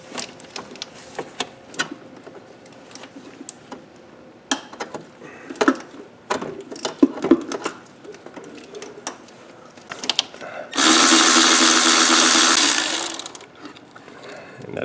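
A hand ratchet working a bolt loose on a Volvo throttle actuator, with irregular clicks and metallic taps, followed by a steady whirring burst of a few seconds near the end.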